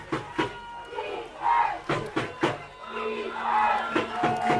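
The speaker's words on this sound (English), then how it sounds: "You hear this crowd, Jesse." Crowd noise rises and swells at an under-16 youth football game, a broad roar of spectators with sharp bursts of shouts and claps recurring through the stretch.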